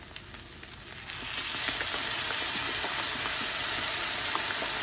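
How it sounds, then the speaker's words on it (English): Soy sauce hits fried rice in a hot pan, the quiet stirring quickly swelling into a loud, steady sizzle and crackle that carries on close by without any talk. "here we go with the soy sauce"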